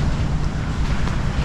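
Steady rumble of wind and sea waves washing in at Tibu Tidal Pool beach, Casiguran, loud and continuous, with heavy wind buffeting on the microphone.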